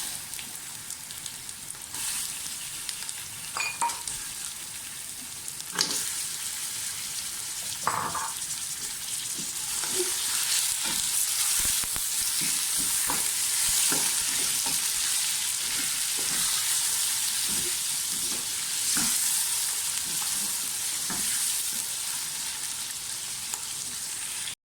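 Mutton sizzles and fries steadily in a pan with cumin and fried onion, with scattered clinks and scrapes as it is stirred, close up and continuous with no talking.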